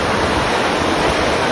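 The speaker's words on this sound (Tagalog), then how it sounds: "Ayan, malapit na tayo sa Kawasan Falls." Kawasan Falls sends up a dense, constant roar of rushing water, loud and close, with no breaks and no voices over it.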